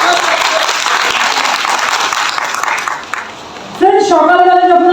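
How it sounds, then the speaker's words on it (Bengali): An audience at a motivational sales training session bursts into loud applause for about three seconds, then fades, and a voice starts speaking close by. "ম্যাডামের জন্য একটু জোরে হাততালি হয়ে যায়"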